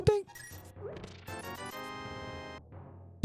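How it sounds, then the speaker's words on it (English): Rock-breaking sound effects from Zelda: A Link to the Past, with crunchy crash and smash hits followed by chiming tones, a busy run of game sounds lasting about three seconds. "You will never hear rock sounds like this."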